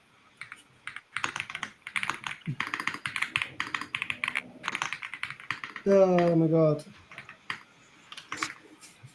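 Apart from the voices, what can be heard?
typing on a computer keyboard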